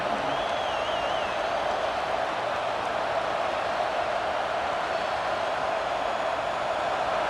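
Steady crowd roar from the Auburn stands during a 1993 college football playoff game against North Carolina in a video game, a continuous broad wash of cheering and noise with a faint whistle-like tone near the start.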